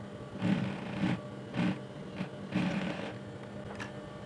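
A sewing machine stitches down a welt pocket with flap at a half-inch allowance, running in several short whirring bursts separated by pauses, close and fairly quiet with no talk.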